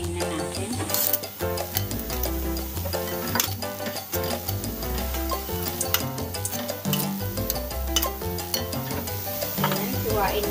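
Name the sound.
stirring pancit canton in sizzling pan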